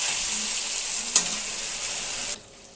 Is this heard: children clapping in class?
no